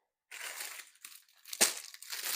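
A knife slicing cherry tomatoes in half for an eggplant dish, with soft crunchy cuts and crinkling squishes close by, one sharp snap in the middle.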